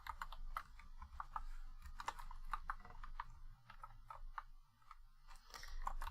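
Rapid typing on a computer keyboard, a close, quiet stream of uneven key clicks with brief pauses between bursts, no talking.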